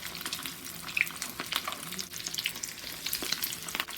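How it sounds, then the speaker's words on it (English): Cajun seafood balls fry in hot oil with a dense, close crackling sizzle that runs steadily, sharp pops scattered throughout and no talking. "we're going to gently put our seafood balls right into the hot oil. Like so. Hear that sizzle?"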